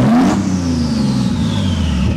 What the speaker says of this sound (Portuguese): vamos dar uma aceleradinha aqui pra vocês verem como é que tá o ronco desse carro